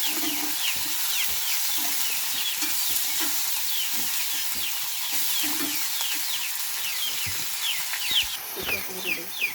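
Chopped onions, tomatoes and green chillies fry in a pan alongside fried fish, a constant loud sizzle broken by repeated scraping stir strokes close by.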